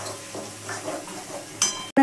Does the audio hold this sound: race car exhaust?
no